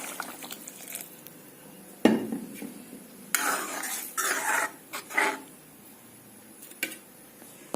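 Fish curry with tomato and hot water heats in a pan, producing faint bubbling and simmering under sporadic clinks and scrapes of utensils against the pot, quiet and close, with a couple of louder bursts of cooking noise midway.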